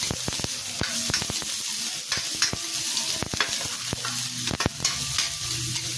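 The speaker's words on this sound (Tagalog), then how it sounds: "Gisa muna natin to" Onion, leeks, carrots and garlic sautéing for noodle soup, a steady sizzle and frying hiss broken by frequent scrapes and clicks of stirring, close and continuous throughout.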